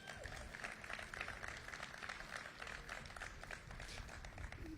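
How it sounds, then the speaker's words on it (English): A crowd at a governor's transit hub announcement claps in a busy, uneven patter, fairly faint and distant, with a murmur of voices mixed underneath. "Give him another round of applause."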